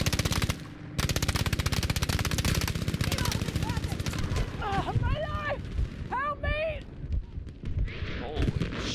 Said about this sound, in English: machine gunner in the field,